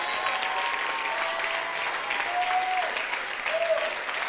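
A church congregation applauds in continuous, dense, even clapping that stays loud and steady throughout, with a faint voice under it.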